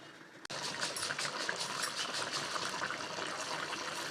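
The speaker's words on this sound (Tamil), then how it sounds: "குழம்பு சூப்பராக கொதி வந்துருச்சுங்க" A pot of tamarind curry with elephant foot yam bubbles on the stove in a steady, close, low simmering hiss, preceded by a brief click.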